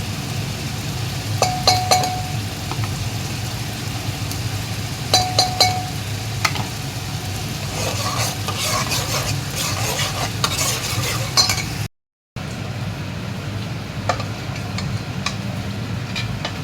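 Butter chicken masala is stir-fried in a pot, with a steady sizzle and repeated scraping and clinking of a spoon against the metal. A brief gap of silence falls near the end, and no one speaks.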